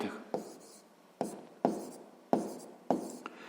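A pen writing numbers on paper makes a series of short strokes, each one opening with a tap, close and soft, with a faint voice now and then.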